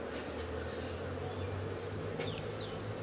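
Honeybees buzzing steadily at a working hive, a dense continuous drone throughout with no talking.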